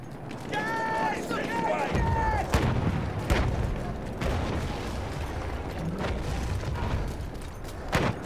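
Gunfire and explosions sound in the World War I shooter game Battlefield 1: sharp shots and thuds over dense battlefield rumble, with a voice heard amid the combat noise.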